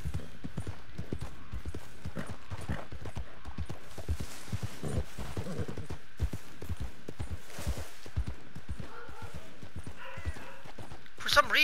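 Horse hooves clip-clopping in the video game Red Dead Redemption 2, a steady rhythmic series of hoof thuds at a trot that continues throughout, with someone talking over them at times.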